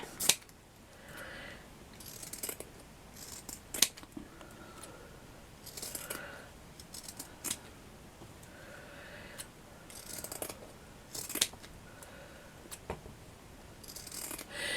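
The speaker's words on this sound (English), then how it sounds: "So I'm just going to fold that, cut it." Scissors snipping folded paper for handmade craft flowers, a series of short crisp cuts scattered irregularly over a quiet background, close and moderately faint.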